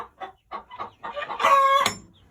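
Several close farm chickens cluck in short bursts, building to a louder, drawn-out squawk near the end.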